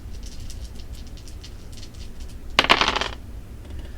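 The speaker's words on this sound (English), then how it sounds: "let's go ahead and roll your dice." Several dice rattle together in a quick burst and settle within a second, a close, bright clatter over faint background hiss, with no talking.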